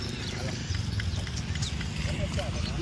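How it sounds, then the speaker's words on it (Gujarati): Horse hooves clip-clop in a quick, irregular patter as mares are led along, the steps fairly close but soft beneath a steady wash of background noise and low chatter. "ઘોડા"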